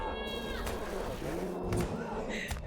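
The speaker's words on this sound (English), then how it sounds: "If you hear my cat, she's like crying out right now." A pet cat cries out with drawn-out meows at home, close and fairly clear, with faint voices talking around it.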